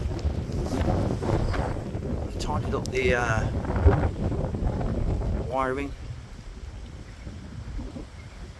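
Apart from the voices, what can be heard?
strong wind on the canal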